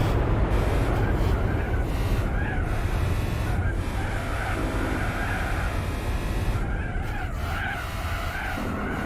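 Racing car drifting in Gran Turismo 4, continuous engine roar under long tire squeal and skidding, loud and steady throughout.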